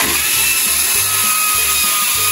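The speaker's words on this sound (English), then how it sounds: "take our bandsaw at the mark," A bandsaw cuts through the ends of a sheet-metal duct, a loud continuous whine and rasp with a faint rhythmic low thump throughout, close by and with no talk.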